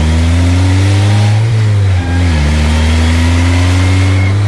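A street-legal DF Goblin go-kart engine revs loudly and close, a steady droning roar that dips and rises as the throttle shifts, with no voices.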